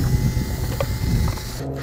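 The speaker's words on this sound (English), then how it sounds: "so I'm just gonna bore these out a little bit" A small drill or power tool bores out bolt holes in a skateboard deck, giving a steady mechanical grinding whir for about two seconds that cuts off abruptly near the end.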